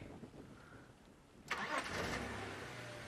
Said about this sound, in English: Let's let the engine run for a little bit.